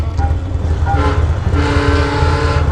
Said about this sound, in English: Ah, city living, where we got trains stopping traffic.